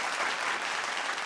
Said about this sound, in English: Let's have a huge round of applause, ladies and gentlemen, and bring in some energy in the room.